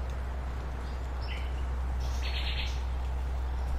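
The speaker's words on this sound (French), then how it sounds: "vous entendez les oiseaux ou pas?" Birds call in the Amazon rainforest on a walk, a few brief chirps and whistles at a moderate distance over a steady low hum and ambient noise.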